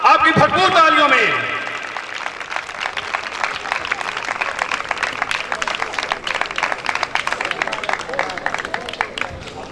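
An audience at a Township church program applauds a well-known compere, with a loud voice speaking at the start, then sustained scattered clapping that continues steadily at moderate level.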